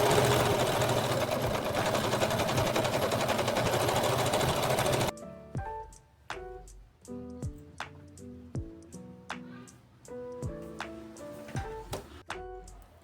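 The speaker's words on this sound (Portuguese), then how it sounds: "Aqui você pode fazer um ponto reto, ou ponto zigue-zague, ou ponto caseado, se sua máquina tiver" A sewing machine stitches a seam with a steady, fast mechanical whirr for about five seconds, then stops. Plucked musical tones follow, with no talking.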